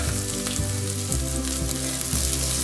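Whole garlic and cashews fry in butter in a pan, producing a loud, steady sizzle with a few stirring knocks.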